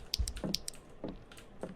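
Knocking on a door in a horror video game: a few soft, muffled knocks and taps, irregularly spaced, sounding faint and close against a quiet background.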